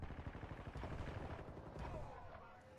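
Gunshots in the video game Warzone 2 come as a quick, muffled series of low, rapid pops, fairly faint and close together, fading near the end.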